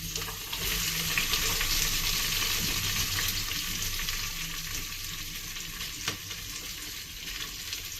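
Sliced medium onions frying in oil for mutton biryani, a loud, dense and continuous sizzle close by, with a faint stir or clink now and then and no talking.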